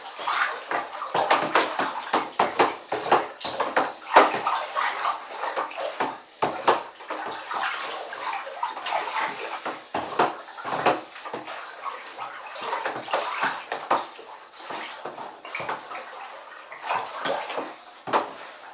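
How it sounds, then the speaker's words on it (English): A molasses and water rum wash with turbo yeast is stirred in a fermenter, giving rhythmic sloshing and swishing bursts of liquid, close and steady for the whole stretch. "so we've got that a really good stir now"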